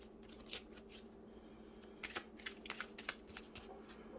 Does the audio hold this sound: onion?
no